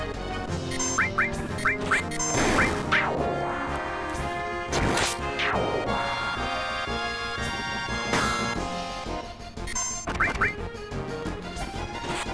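A chicken-enemy ambush battle in Final Fantasy VII, with loud squawking clucks, repeated crashing hits and bright chiming effects over game music.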